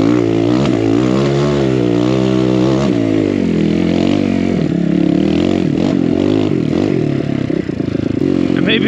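A BBR KLX170RF dirt bike rides a lap of a trail, its engine droning loud and close throughout, the revs rising and falling as the rider works the throttle.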